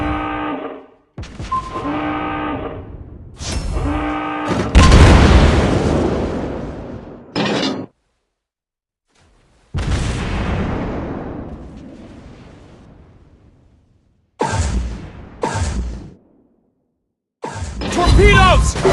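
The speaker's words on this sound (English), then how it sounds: "Torpedoes! Target hit!" Torpedo hits in a naval battle video game, several loud booming explosions with long decaying rumbles, separated by short silences and interspersed with game voice callouts.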